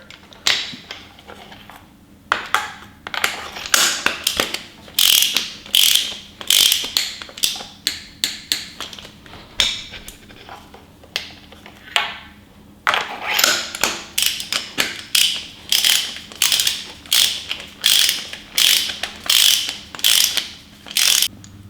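A ratchet tightens engine bolts on a 5.7L Hemi engine to 13 foot-pounds, close repeated bursts of rapid clicking in short strokes with brief pauses between, loud and alone.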